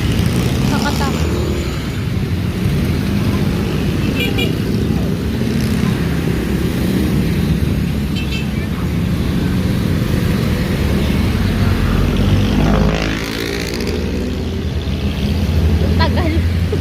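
Fast road traffic streams past close by while crossing a street, a steady loud rumble of engines with vehicles whooshing through, one louder pass near the end; voices talk over it.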